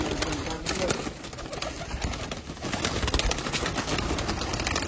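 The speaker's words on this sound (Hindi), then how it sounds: "आपकी आंखों के सामने हैं परिंदे।" Sialkoti pigeons, nine pairs in a loft kept for sale, coo steadily, with soft wing flaps through a dense, noisy background, while a voice talks over them.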